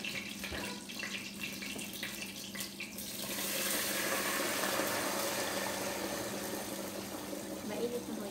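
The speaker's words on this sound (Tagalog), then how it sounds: "Ilalagay na natin yung tubig." Water pours and splashes into a pot for cooking rice after garlic and onion were fried, starting with a rushing splatter, then a fuller steady stream; a voice talks over the start.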